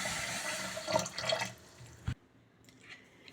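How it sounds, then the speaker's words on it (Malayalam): Water sloshes and splashes close up as grains are swirled and rinsed in a bowl, ending with a brief knock and near silence. "ഈ വെള്ളം തെളിയണ വരെ നന്നായി കഴുകുക"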